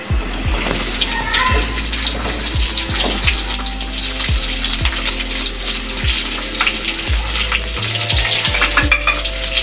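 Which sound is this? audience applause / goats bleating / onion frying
onion frying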